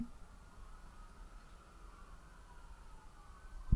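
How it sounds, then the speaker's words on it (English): Sirens wail faintly in the distance, a thin rising and falling tone over low background rumble and hiss. "You guys hear the sirens outside?"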